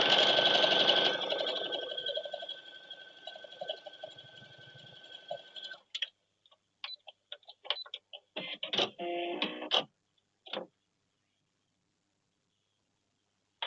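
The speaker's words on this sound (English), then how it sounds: "I'm going to sew the white strip onto the left side" A sewing machine runs in one steady, fairly loud burst of stitching for about six seconds as white quilt strips are joined. Then come scattered clicks and handling noises, and a short rustle before silence.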